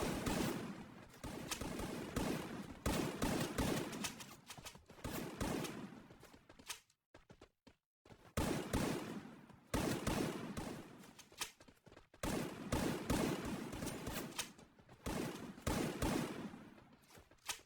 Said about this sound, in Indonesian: terhit tembakan peluru panas dari I'm Stars